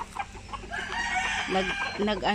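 Chickens and fighting roosters in a backyard on a small farm cluck and crow nearby, a rooster call rising over steady clucking, with a voice faintly in the background.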